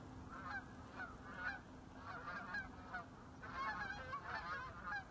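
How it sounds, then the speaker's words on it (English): A flock of geese honks repeatedly while flying over a lake at sunrise, a steady chorus of overlapping calls at moderate distance against a quiet, low background. "Geese, yes."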